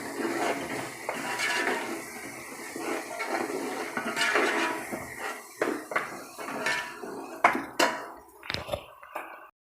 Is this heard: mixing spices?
yes